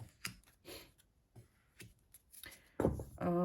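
Quiet card handling: a few sharp riffles and flicks of a deck in separate bursts, close by, ending with a brief voiced sound.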